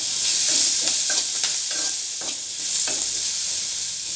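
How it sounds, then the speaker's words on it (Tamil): Onion, coconut and tamarind sauté in a pan for hotel-style onion kara chutney, with a bright, continuous sizzle broken by repeated scraping stirs. "ஒரு சின்ன பீஸ் புளி வந்து நம்ம அதை கூட சேர்த்து வதக்கிறோம்."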